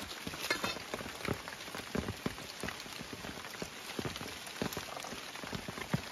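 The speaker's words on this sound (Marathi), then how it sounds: "आज चांगलाच पाऊस पडलो" Heavy monsoon rain in a Konkan village, a dense steady patter of many close drops striking surfaces, with sharper individual splashes throughout and no voices.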